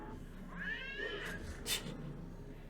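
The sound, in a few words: death cat creature cry in video game Wizard101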